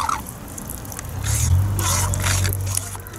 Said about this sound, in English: now you're pumping water directly from the source